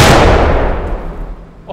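A 0.3-pound RDX high-explosive charge detonates in one very loud, sharp blast whose roar decays over about a second, leaving a faint tail with no voices.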